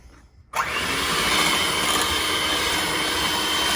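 Electric mixer beating pumpkin roll batter of flour and other ingredients, starting abruptly after a brief quiet moment and then running steadily as a loud, continuous whirring drone.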